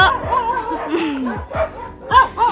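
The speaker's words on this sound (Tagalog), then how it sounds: "maraming aso dito" Several dogs bark and yip in short bursts nearby in a rural province, overlapping irregularly with a whine or two mixed in.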